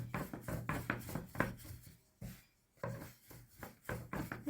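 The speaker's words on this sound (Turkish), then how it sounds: "oklavayla açabildiğimiz kadar açıyoruz" Leek börek dough being rolled out by hand with a long thin wooden rolling pin, giving repeated close woody rubbing and thudding strokes in a steady rhythm with one short pause.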